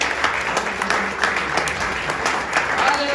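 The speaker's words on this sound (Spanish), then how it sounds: "¿Qué le parece si le damos un aplauso al Señor por eso?" Church congregation applauding during a Spanish-language sermon: a dense, steady wash of many hands clapping throughout, fairly close, with voices mixed into the crowd noise.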